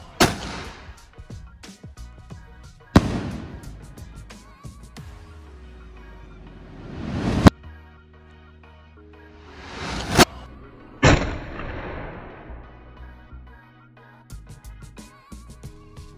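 A 2-inch twin boom firework shell fired outdoors at Diwali, several loud sharp bangs spaced seconds apart, each followed by a rising rushing swell before the next crack, with faint background noise between.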